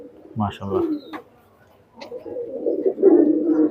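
Two soft, low coos from a Teddy highflyer pigeon early on, followed by a person talking close by.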